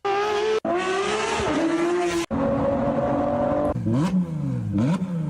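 Porsche 911 GT3 RS engine revving loudly and alone, sharp high-pitched wails with quick gear changes and brief cuts, then short throttle blips rising and falling.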